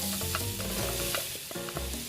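Butter melting in a pan for a cheesy baked macaroni sauce gives a steady, close sizzle with light stirring scrapes throughout, no voices over it.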